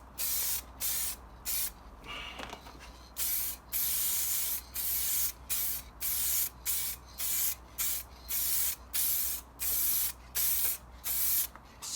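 Short bursts of spray paint hiss in a steady rhythm as a first coat of white goes onto a repaired VW Golf Mk7 wing, each pass loud and close with brief pauses between.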